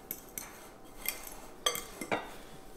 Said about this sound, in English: I'm gonna start mixing it around a little bit.